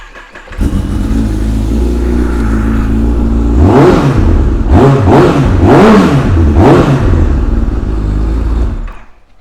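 A motorcycle fitted with a carbon-fibre Akrapovič exhaust and decat starts up close by, then rises through four sharp throttle blips before falling to idle and cutting off.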